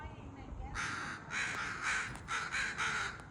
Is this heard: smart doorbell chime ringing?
no